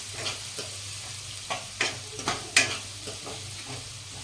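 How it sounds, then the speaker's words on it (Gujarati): Chopped onions sautéing in a pan for dal baati, with a steady low sizzle broken by several sharp scraping stirs of a spoon against the pan, close and alone. "આપણે ડુંગળીને 1 મિનિટ સુધી આવી રીતે સાંતળશું."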